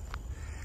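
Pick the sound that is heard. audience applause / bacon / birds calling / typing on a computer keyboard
birds calling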